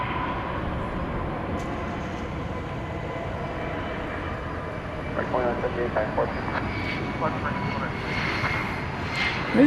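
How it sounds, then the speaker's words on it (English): An American Airlines Airbus A321 jet at DFW Airport at night gives off a broad, steady roar at moderate distance that swells slightly toward the end, with faint rumbling background noise of the busy airfield. "it's an Airbus A321."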